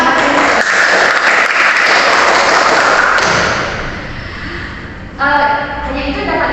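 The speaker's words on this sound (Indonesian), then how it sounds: "kita tepuk tangan karena ide kalian sangat bagus" A class of students applauds together, a dense sustained wash of clapping that eases off briefly near the end and then swells again.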